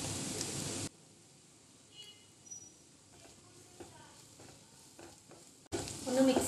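Onions and turmeric powder frying in a pan for egg puffs, a loud sizzle at the start and end, with quieter stirring scrapes and light crackles between.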